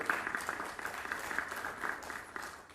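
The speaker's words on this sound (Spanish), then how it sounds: "Aplausos, por favor" Brief, moderately faint applause rises from a seated audience at a constitutional debate forum, with a few louder claps standing out before it thins out.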